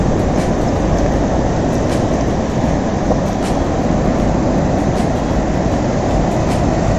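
Sea waves crashing on Tannirbhavi beach in Mangalore, a loud, continuous broadband roar with regular sharp surges, heard alone and with no talk.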